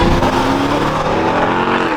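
A 700-horsepower supercharged Ram TRX and a naturally aspirated Lamborghini Aventador accelerating hard in a race, loud and close, with a rising, roaring engine note and a brief edge of tire noise over two seconds.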